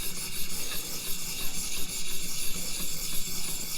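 Heel of a Hinderer Firetac knife blade in CPM 20CV steel is drawn across a sharpener, giving a steady close-up raspy scraping in repeated strokes, fairly quiet and with no voices.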